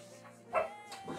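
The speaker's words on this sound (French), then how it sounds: "qui c'est qu'on l'a entendu là? C'est mon chien." A single short dog bark, fairly close, standing out briefly against a quiet background.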